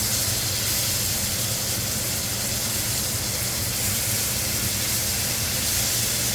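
Dry-aged backstrap steak sizzles loudly in a cast iron skillet just after flipping, a steady, dense, hissing crackle that fills the whole stretch without pause.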